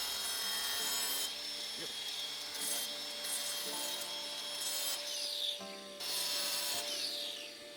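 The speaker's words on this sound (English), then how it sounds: "Slightly better option is a bit more heavy-handed, but we're going to go with this grinder." A grinder fitted with a diamond-tipped universal blade cuts out plaster, giving a continuous rasping, gritty whine that rises and drops in several bursts as the blade bites into the wall, heard up close with no talking.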